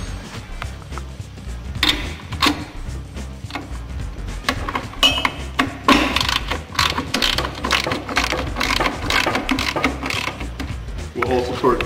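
A ratchet tightening the idler arm bolt during a SyncroDrive install, with repeated sharp clicking bursts at an uneven rhythm, close and fairly loud over light background noise.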